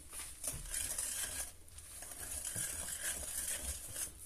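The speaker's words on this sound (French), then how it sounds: "Et vous remuez" A utensil stirs chocolate cake batter in a bowl, making soft wet swishes and light scraping with a few faint clinks, close and steady, with no talking.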